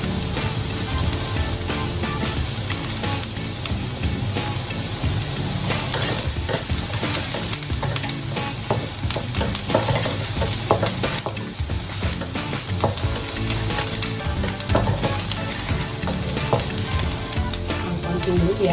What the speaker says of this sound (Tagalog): Isinagad po natin ating bawang.